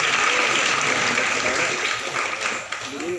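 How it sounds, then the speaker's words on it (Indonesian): Crowd applause at a barber event, a steady dense wash of clapping with voices and a little whistling mixed in, fairly loud throughout. "Tepuk tangan dulu."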